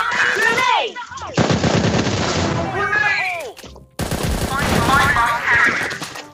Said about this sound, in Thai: ตกใจเลยพี่ยิงหมไปพี่ติ๊ก